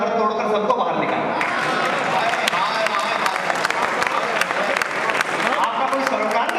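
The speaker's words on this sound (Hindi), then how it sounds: "मेरी अच्छी बात हो तो तालियां देना" An audience applauds at a poetry festival, dense clapping sustained throughout with scattered sharp claps, fairly loud and close, mixed with crowd voices and talk over it.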